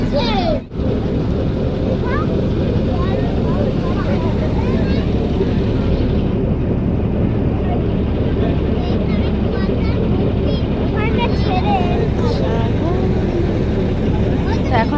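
A passenger launch pulls away, its engine giving a steady low drone and rumble that fills the whole stretch, with voices of people on board talking over it.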